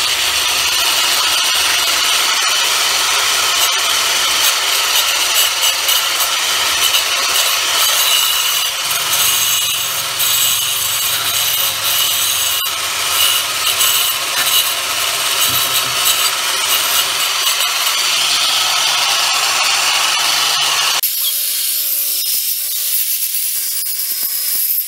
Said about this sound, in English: I've wet this down a little bit. I'm gonna see if it'll grind